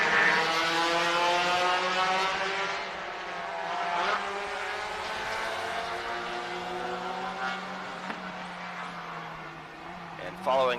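A Chevrolet C5 Z06 Corvette lapping a race track, its engine note rising and falling through gear changes as it passes at a distance, heard under a commentator's talking.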